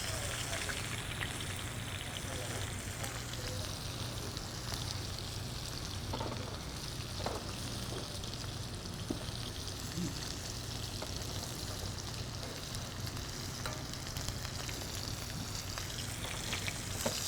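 Sage and rosemary sizzling in hot rendered fat beside a searing cut of meat in a pan, a steady loud crackling hiss filling the whole stretch, with occasional soft kitchen clatter.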